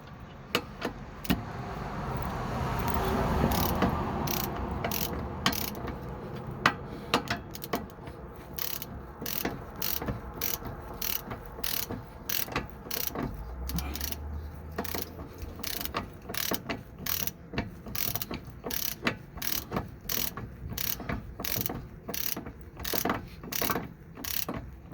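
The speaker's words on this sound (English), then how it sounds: "18 millimeter wrench on top. 18 millimeter on the bottom." An 18 mm wrench ratchets on the sway bar link nuts of a 2002 Dodge Ram 1500 Sport, with rapid repeated clicking strokes, steady and close, running through the whole stretch with no talk.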